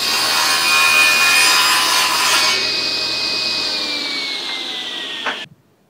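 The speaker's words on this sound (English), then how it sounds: "I'm going to do this cut with the sled." A table saw blade slices through a wooden board on a shop-made miter sled, a loud, steady whining cut lasting about five seconds that ends abruptly as the blade clears the wood.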